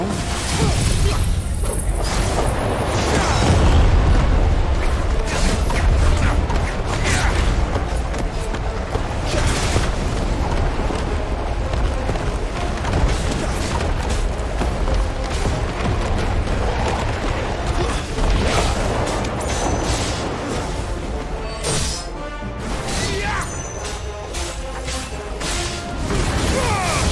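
Enemies detonating in Final Fantasy XVI, a dense, loud barrage of booms, crashes, whooshes and shattering debris layered over game sound without pause.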